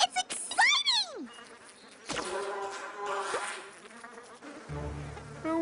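Cartoon bees buzz in a loud, swooping, close-up swarm with rising and falling pitch sweeps, broken by a thud and a brief low rumble near the end, in a My Little Pony Friendship is Magic scene.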